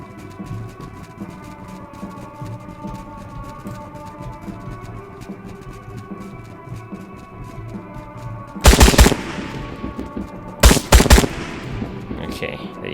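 Two sharp bursts of rapid automatic gunfire ring out in a Trans-Siberian Railway Simulator nightclub shoot-out, loud and close over a steady low ambient hum.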